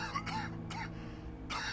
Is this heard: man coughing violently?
yes